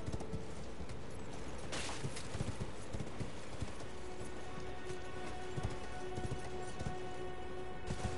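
Steady rhythmic horse hoofbeats clip-clop along at a trot in the video game Elden Ring, moderately close, over a constant hiss of ambient noise.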